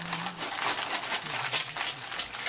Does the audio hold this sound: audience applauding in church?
no